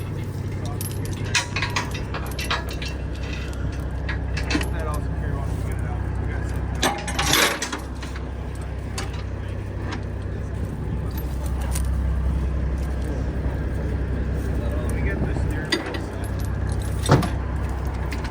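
Metal chains clink and jangle as they are gathered and wrapped on a lifted vehicle, irregular rattles over a low engine-like rumble, with people talking now and then.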